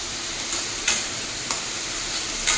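Ridge gourd (chichinga) fries in a pan with a loud, steady, close hiss of sizzling, broken by a few brief louder crackles; no voices.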